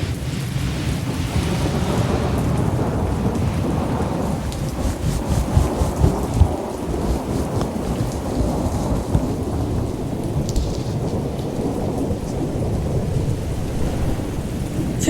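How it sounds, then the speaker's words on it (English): Steady rain pours after a thunderstorm, a dense broadband wash with scattered drops hitting surfaces, constant and fairly loud throughout with no voices. "It's just rain."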